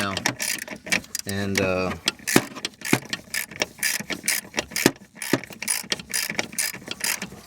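Ratchet with a 9/16 deep well socket on extensions compressing a control arm bushing on a Jeep Grand Cherokee, rapid repeated clicking strokes close up, with someone talking briefly near the start.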